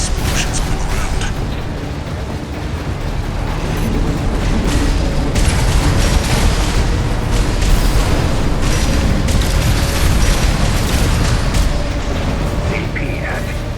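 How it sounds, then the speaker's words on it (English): Dense, loud battle noise fills Armored Core VI combat as explosions on the ground go off beneath a mech, with rolling booms, pops and mechanical rattling running without a break. "Use your mobility in the air to get clear of explosions on the ground."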